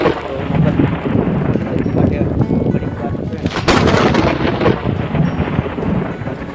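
Steady heavy rain pours down, with a loud crack of thunder rumbling through partway.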